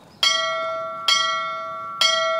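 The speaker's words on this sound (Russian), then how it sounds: "Я собирался трижды ударить колокол!" A bell rings three times at even intervals, each strike bright and resonant with a long ringing tail that decays before the next.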